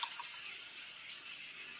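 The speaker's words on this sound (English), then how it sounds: "I'm going to fill up the crock pot with the water. I always let it run for a few seconds before I start using it." Tap water runs to fill a crock pot, a steady hiss and splash with no break, fairly quiet and alone.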